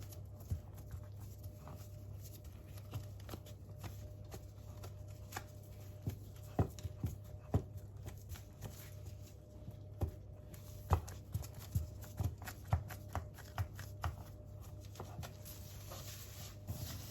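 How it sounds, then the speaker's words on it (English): A knife cuts into sweet potato pie dough, giving faint scattered soft taps and thuds against a board, irregular and quiet over a low steady hum. "start cutting into the dough"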